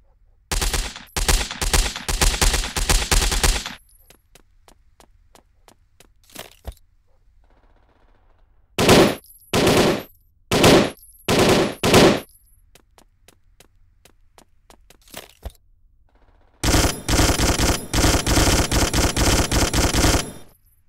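Gunfire in the El Matador shooter game: sharp automatic bursts in several loud clusters, with a few single shots between them and quiet gaps in between.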